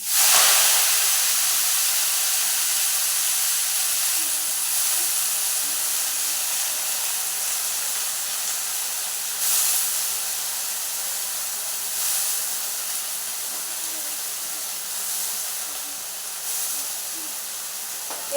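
Vegetables drop into hot oil with tempered garlic, a loud, steady broadband sizzle that hisses continuously and evenly, with only slight swells and no voices.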